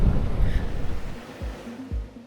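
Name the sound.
wind and surf on Tasmania's east coast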